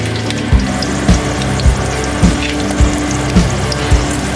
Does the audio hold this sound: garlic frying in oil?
yes